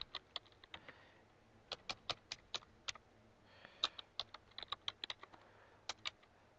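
A customer name goes in on a computer keyboard as quick irregular keystrokes in two bursts, crisp and fairly quiet in a still room.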